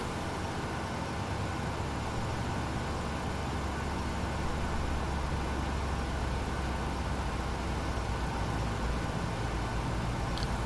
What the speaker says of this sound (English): Now, there's the fuel. You hear the engine coming online.